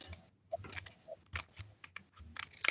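Scissors snip through paper while cutting a star shape, a series of small crisp cuts and rustles at close range, irregular and quiet, with no talking.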